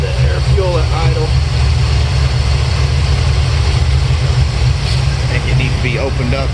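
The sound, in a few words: 1972 Chevelle engine idling while warming up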